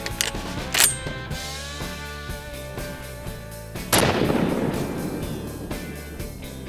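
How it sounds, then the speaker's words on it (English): A shotgun loaded with number 7 dove loads is fired at a kennel, giving two sharp, loud, close reports a few seconds apart, with ringing decay and a steady background hum. "Let's shoot another kennel that claims to be shot proof. This is the exact same test, 7 Steps with number 7 dove loads."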